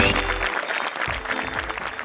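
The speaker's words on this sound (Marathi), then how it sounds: "मेकअप डिपार्टमेंट मधील अँथनी दादांसाठी जोरदार टाळ्या" Studio audience applause for Anthony from the makeup department on the Marathi comedy show Maharashtrachi Hasya Jatra, a steady burst of clapping with some low rumble and faint voices mixed in.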